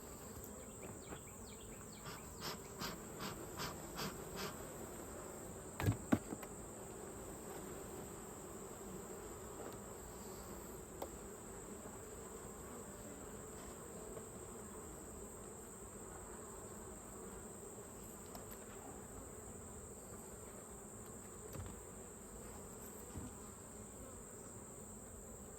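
Honeybees buzz around an opened hive, a faint, continuous hum with occasional closer buzzing passes and a few soft clicks and knocks in the quiet background.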